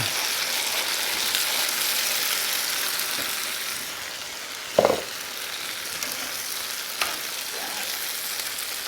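A tomato mixture hits a hot pan for shredded beef and sizzles loudly and steadily, with a bright frying hiss throughout, a couple of sharp clinks from a utensil, and no talk.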